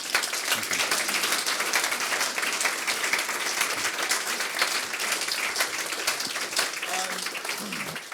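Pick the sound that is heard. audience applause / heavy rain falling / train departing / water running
audience applause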